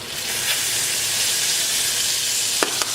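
Chicken frying in a little olive oil with garlic salt seasoning, giving a steady, close sizzle that runs throughout with a couple of faint clicks near the end.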